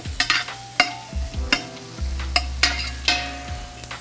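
Garlic and onions fry in a pan while a utensil stirs and scrapes, producing a steady sizzle broken by a string of clacking knocks against the pan, close and clear with no talking.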